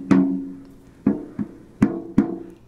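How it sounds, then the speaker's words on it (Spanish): Muted back head of a drum on a homemade sub kick microphone, struck five times in an uneven rhythm, each hit a close, deep thump that dies away quickly, with no talking. "Este es el parche de atrás, se le pusieron un par de sordinas para que no dure tanto la resonancia y suena así"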